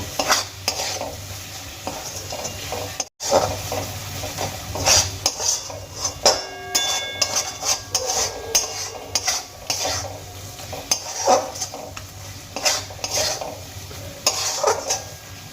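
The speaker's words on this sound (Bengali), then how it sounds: "ধনেপাতা কুচি দিয়ে দেওয়ার পর আরও একবার খুব ভালো করে নাড়িয়ে চালিয়ে নেব" A spoon steadily stirs tomato bharta with chopped coriander in a kadai, making close, rhythmic scraping and clinking strokes with no voices.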